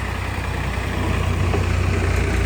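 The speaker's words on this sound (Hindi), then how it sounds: "ए ट्रैक्टर आयल, कहाँ छै ट्रैक्टर?" A tractor engine idles steadily nearby, a continuous loud low throb with even pulsing that swells slightly toward the end, with no talking.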